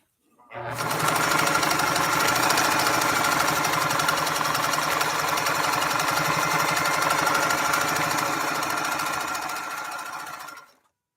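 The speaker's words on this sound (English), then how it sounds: "I decided to race a little bit faster, even though we're dealing with a very delicate 7511 embroidery needle and we're dealing with protected full grain leather." A Pfaff 230 sewing machine fitted with a fine 7511 embroidery needle sews protected full grain leather in one long, loud, continuous run of fast, rattling stitching that starts abruptly and stops after about ten seconds.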